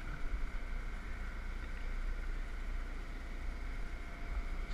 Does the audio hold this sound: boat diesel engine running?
yes